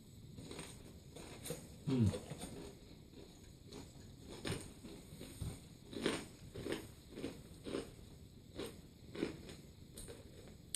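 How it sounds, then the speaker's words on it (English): Crisp pita crackers topped with basil farmer's cheese crunch in a series of sharp bites and chews, close and fairly loud, with a single stronger snap near the start. "the pita crackers crunch does really good things for this cheese"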